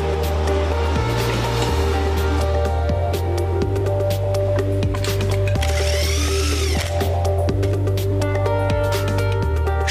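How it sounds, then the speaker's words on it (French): Power tool on a Nissan GT-R engine assembly line tightening bolts, a steady loud mechanical whir with regular pulsing bursts repeating every second or so amid factory noise. "Chaque boulon est serré avec une précision extrême."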